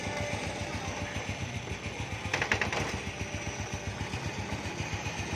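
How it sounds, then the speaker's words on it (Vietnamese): A 2002 Honda Wave Alpha motorcycle engine idles nearby with a quiet, even, rhythmic putter and a brief rattle partway through. "Và máy đang nổ nha anh em,"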